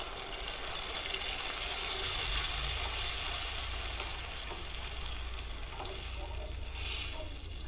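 A butter mixture bubbling and sizzling steadily in a pot on the stove, a continuous close frying hiss with faint stirring, no talk.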